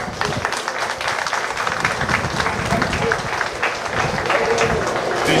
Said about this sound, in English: These young women, another round of applause.